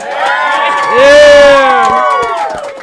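Live audience cheering in a restaurant during a podcast recording, a loud burst of whoops and shouted voices swelling in the middle, close and energetic, with a lead voice riding over the crowd.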